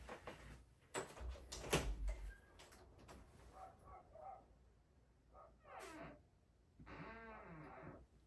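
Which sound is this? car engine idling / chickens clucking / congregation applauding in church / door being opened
door being opened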